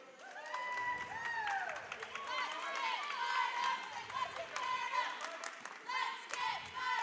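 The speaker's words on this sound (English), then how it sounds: "Peter, the crowd's getting fired up." A girls' state basketball crowd at a fifth-place game roars and cheers in a busy gym, with whistles, shoe squeaks and sneaker thumps mixed through the steady noise, and voices talking over it.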